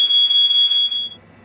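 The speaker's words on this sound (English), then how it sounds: "so the fire alarm does not go off again" A kitchen smoke alarm sounds a loud, steady high-pitched electronic tone for about a second, then cuts out, leaving quiet room noise.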